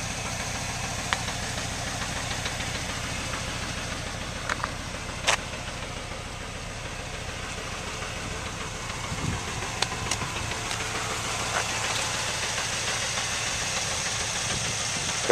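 A 1997 Chevrolet Camaro SS with the LT1 V8 idles steadily at an auction, a constant low rumble with a few faint clicks and knocks in the background and no talk.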